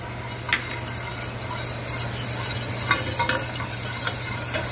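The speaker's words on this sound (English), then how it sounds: "And now, we whisk." A whisk stirs cold roux into hot liquid in a pan, a steady scraping swish over a continuous low hum, with occasional light clinks of metal against the pot.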